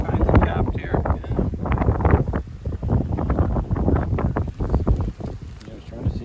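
Heavy wind buffets the microphone in continuous gusty rumbles during an outdoor beehive inspection, loud and close, with people talking underneath.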